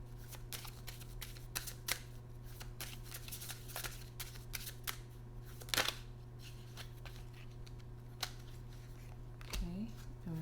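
Tarot cards being shuffled in a quiet room, a steady stream of soft, close riffling ticks and flicks with a few sharper slaps, under a constant low hum.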